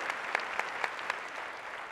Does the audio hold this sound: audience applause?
yes